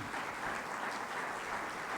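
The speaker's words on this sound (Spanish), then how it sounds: "¿Puedes darle una ofrenda de palmas al Señor?" A church congregation claps together in a dense, sustained burst of applause that stays steady and fairly loud throughout.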